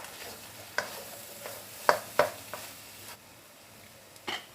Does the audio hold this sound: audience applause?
no